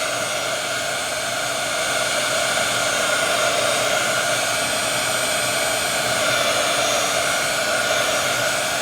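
A handheld dryer blowing on a decoupage art journal page, producing a loud, steady whooshing hum that runs unbroken and close throughout, with no speech.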